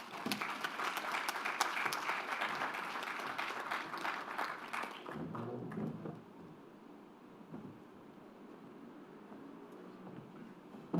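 Audience applause at a company's annual general meeting, a dense burst of many hands clapping for about five seconds, then tapering off into scattered claps and room murmur.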